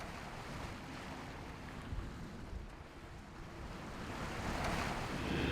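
Wind and waves at sea off Mallorca, with steady rushing wind buffeting the microphone over broad surf wash that swells louder toward the end.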